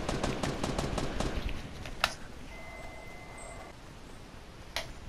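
Gunfire in a Fortnite match: a rapid burst of about eight to ten sharp shots in the first second and a half, then two isolated cracks, loud and close over a quiet background hum.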